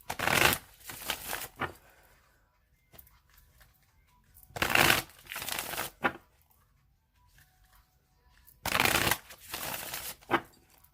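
Tarot cards being shuffled close up in three separate bursts of rapid riffling, with quiet pauses between them.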